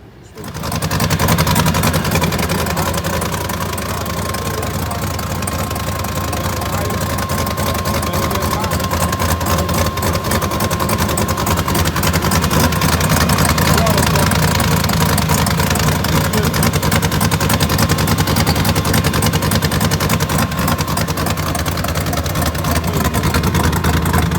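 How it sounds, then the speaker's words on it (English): An overheating turbocharged LS-swapped engine idles steadily and loudly up close, a continuous rumbling drone with a faint whine that runs unchanged for the whole stretch. "crank it up, and let it idle, see what's going on"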